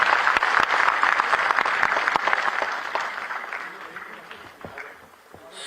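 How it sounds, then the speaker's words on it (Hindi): An audience at a teachers' appointment letter ceremony in Dehradun applauds with dense clapping that is strongest at first and then thins out to scattered claps. "तालियां बजती रहे"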